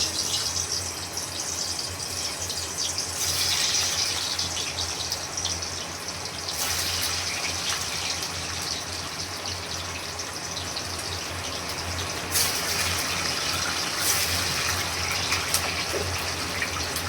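Water pours steadily into a wok as a continuous gushing, splashing rush. It carries on without pause, with the flow surging slightly louder at moments.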